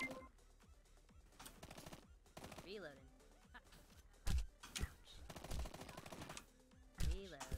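Submachine gun fire in the video game SmugForce comes as rapid crackling bursts mixed with game effects and thumps, some louder impacts near the middle and end, with a voice briefly heard.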